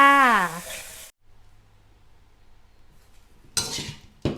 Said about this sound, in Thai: เดี๋ยวเราไปตักเสิร์ฟกันเลยค่ะ